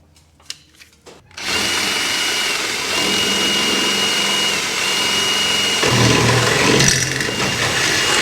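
A power drill bores a hole through a pallet wood wall in a workshop, running steadily and loud for most of the stretch after a few brief knocks at the start.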